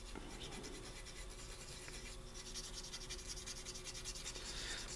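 A Q-tip dipped in metal polish scrubs the badly corroded contacts of a retro game cartridge, making a soft, steady, close scratching rub that continues without pause.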